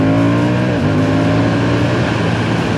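A Moto Guzzi V100 motorcycle engine pulls steadily in third gear on a highway climb, a loud, continuous drone with a smooth rising pitch and heavy wind rush, no speech.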